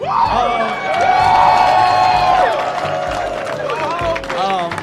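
A comedy show crowd cheers and applauds enthusiastically, a loud sustained wash of clapping and whoops with voices rising over it.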